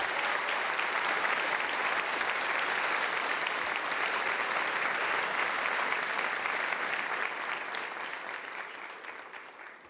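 Sustained applause from a large audience of deputies and guests at a national address in Venezuela, dense and even for most of the stretch before thinning and fading near the end.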